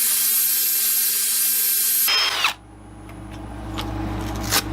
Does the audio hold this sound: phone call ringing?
no